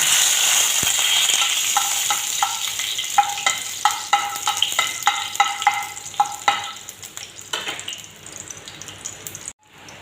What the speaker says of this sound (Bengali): সর্ষে তেলের মধ্যে দিয়ে দিচ্ছি দুটো শুকনো লঙ্কা